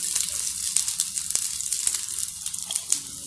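Oats cutlets fry in oil in a pan with a steady, close hiss and sizzle, broken by small crackling pops throughout.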